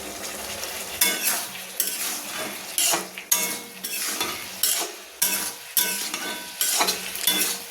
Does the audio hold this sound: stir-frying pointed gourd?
yes